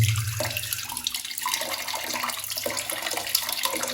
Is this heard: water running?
yes